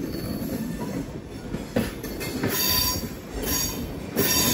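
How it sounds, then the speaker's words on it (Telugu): An express train on the Bhubaneswar to Secunderabad route runs past on the railway with loud close rumbling and squealing wheels, rising and falling as the carriages go by. "ఇప్పుడు భువనేశ్వర్ నుంచి సికింద్రాబాద్ అయితే వెళ్తుంది ట్రైన్."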